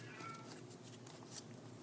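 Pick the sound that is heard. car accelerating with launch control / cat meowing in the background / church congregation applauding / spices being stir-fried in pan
cat meowing in the background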